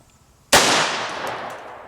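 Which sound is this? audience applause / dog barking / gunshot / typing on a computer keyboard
gunshot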